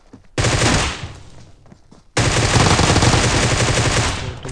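Automatic gunfire in the mobile battle-royale game PUBG Mobile: a loud sustained burst, a brief lull with scattered shots, then a second long rapid-fire volley.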